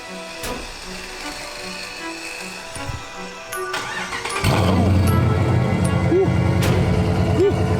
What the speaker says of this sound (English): we're gonna go ahead and hit y'all with the cold start